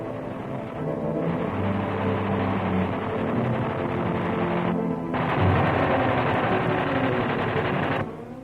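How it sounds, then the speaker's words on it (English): Mortar and light arms fire in wartime newsreel footage shot from a light tank under enemy attack, a steady loud rattling barrage of gunfire that runs throughout with a brief lull and then resumes. "These pictures were taken through the periscope of a light tank, which is under enemy mortar and light arms fire."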